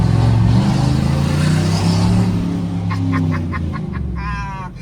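A 2024 Chevrolet Silverado with an exhaust diffuser rumbles loudly and deeply close by, the roar gradually easing, with a short series of honk-like tones near the end.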